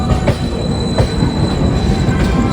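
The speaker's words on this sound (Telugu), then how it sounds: "ఫైనల్ ఇది భూపాల్ జంక్షన్ లోకి అయితే ట్రైన్ అయితే వచ్చేసింది." A train rumbles heavily at close range into Bhopal Junction, wheels clattering and a faint high squeal running over the steady roar as it rolls in.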